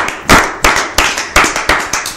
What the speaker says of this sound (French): Est-ce qu'on peut applaudir pour notre amie